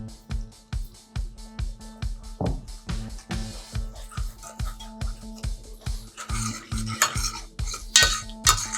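Chopped prawns, fish and squid go into a Mediterranean seafood soup, and a utensil clinks and stirs against the pot in a steady, rhythmic series of close knocks, growing busier near the end, with no talking.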